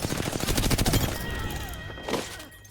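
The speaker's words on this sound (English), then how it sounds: "Getting shot at." Rapid automatic gunfire from a Remnant 2 firefight rattles loudly in a dense burst, then thins into scattered shots and effects as a voice talks briefly over it.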